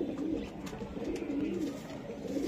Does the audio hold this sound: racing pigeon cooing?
yes